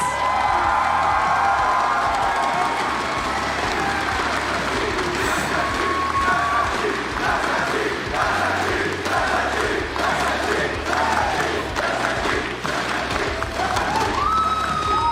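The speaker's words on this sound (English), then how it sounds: "let's give our champions a round of applause." A large esports crowd at a Rainbow Six tournament in Las Vegas cheers and applauds its champions continuously, loud and dense, with whoops and shouts rising over steady clapping.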